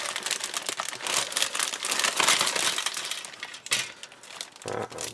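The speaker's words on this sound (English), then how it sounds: "excuse the rustling" A plastic bag is crinkled and rustled while a Hasegawa 1:24 Subaru Legacy model kit is unpacked, giving close, irregular crackling bursts with brief pauses and a few sharper clicks.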